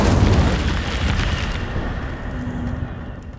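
An Incendio fire spell is cast in the video game Hogwarts Legacy, erupting as a loud, roaring burst that gradually fades over a few seconds, with no other sounds around it.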